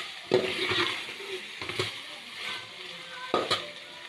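Chicken karahi with green chillies being stirred in a pan, a spoon scraping and clinking in bursts over a steady sizzle of frying, near and fairly quiet with no voices.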